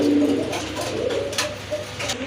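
Pigeons coo in low repeated throaty phrases close by, clear and fairly loud over a soft background murmur.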